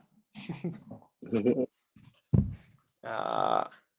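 A dog makes a few short, close vocal bursts, mixing yelps, whines and a panting whimper with brief silences between them.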